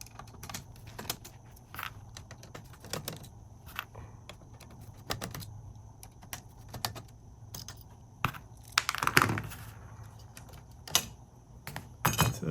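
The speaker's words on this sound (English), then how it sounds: "You can take these 4 screws out here." Small screws being removed from the cover board of a Jeep JK radio, heard as a run of close, light metallic clicks and tool taps over a faint steady background hum; no talking.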